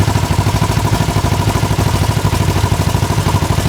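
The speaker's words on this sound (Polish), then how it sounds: "Zróbmy jeszcze test wydechu, jego głośności. Pierwszy w kolejce jest Villain." A Segway Villain SSV engine runs loud for an exhaust loudness test, a close, pulsing, rapid clattering exhaust beat that holds steady throughout.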